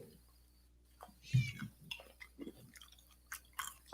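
A hungry cat eats nearby, with scattered wet chewing and crunching bites in irregular bursts, fairly faint in a quiet room.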